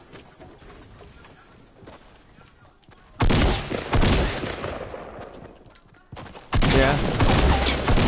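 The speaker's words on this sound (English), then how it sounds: "Holy shit, they were shooting at me." Loud, close bursts of automatic gunfire in a sniper-mode shooting video game, two heavy sustained volleys after quieter distant shots, with a brief spoken word.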